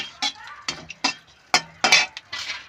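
Whole cinnamon sticks, cardamom pods and cloves are stirred in a cooking pot with bay leaf for a Bengali pulao. A utensil gives a string of close, irregular scrapes and clinks against the pot.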